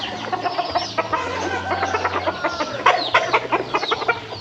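Chickens and a rooster at a rural Thai home near the rice fields cluck busily and close by in overlapping bursts, with a steady low hum underneath.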